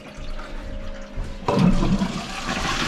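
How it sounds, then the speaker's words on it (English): A toilet flushes during a plumbing repair job. Low background noise gives way to a loud, rushing surge of water that keeps going to the end, with no talking. "Do you want to give it a flush?"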